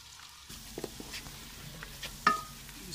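Tomato and garlic masala browning in a pan: a soft, low sizzle with a few scattered clinks and taps from stirring, one slightly sharper knock near the end.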